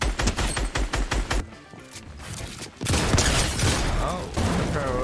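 Rapid bursts of gunfire in the Fortnite video game, loud repeated shots in a quick rhythm at first, then a quieter lull before heavier crashing fire resumes.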